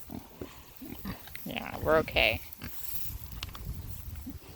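A sow grunts on a farm in a short run of close, throaty oinks, with a person briefly speaking over the animal.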